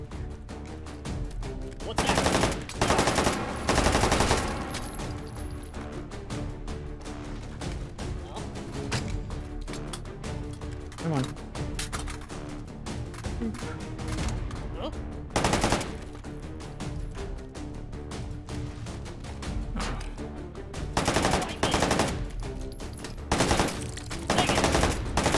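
Gunfire from a magazine being emptied in the VR shooter H3VR: repeated loud bursts of rapid shots across the clip, with quieter stretches between them.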